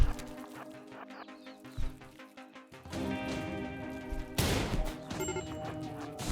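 Chickens cluck in the video game RimWorld amid a busy mix of game music, impacts and a sharp crash, with the clucking short and partly buried under the other sounds.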